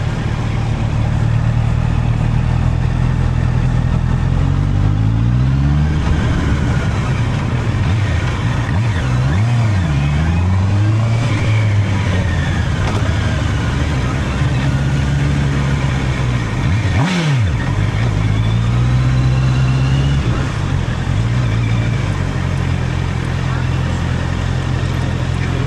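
A Honda CBR 650R's engine revs repeatedly on a test ride, loud and close, with rising and falling pitch sweeps as the rider blips the throttle through clutch shifts, while someone talks over it.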